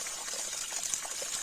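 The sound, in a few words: water flowing through a sieve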